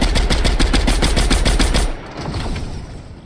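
Rapid automatic gunfire in a Fortnite duo match: a dense string of loud, close shots for about two seconds, then a sudden stop that leaves a quieter rumbling tail.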